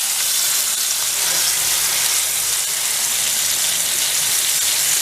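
Beef sizzles and fries steadily in a hot pan just after being flipped, a loud, continuous hiss with no break and no talking.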